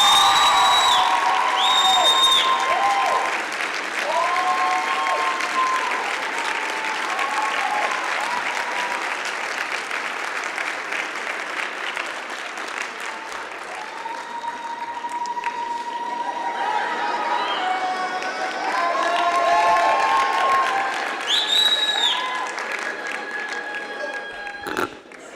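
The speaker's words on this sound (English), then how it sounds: "Families of the graduates, would you please stand and let us applaud you" A large commencement audience applauds graduates' families at a university graduation ceremony, with sustained, dense clapping and some cheering filling the hall steadily from start to finish.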